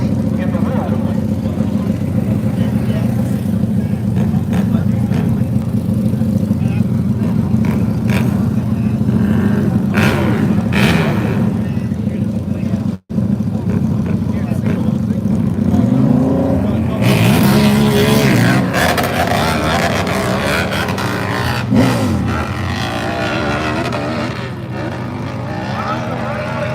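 Nitro dirt bikes race at a live event in Freemansburg, Pennsylvania, their engines droning and revving loudly throughout, with an announcer talking over the din.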